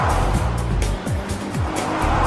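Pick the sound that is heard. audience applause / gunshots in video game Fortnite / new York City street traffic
new York City street traffic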